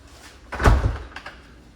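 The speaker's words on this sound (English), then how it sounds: "Close that door." A single close, dull thunk as a door is pushed shut inside a house in Port Charlotte, Florida, followed by faint room noise.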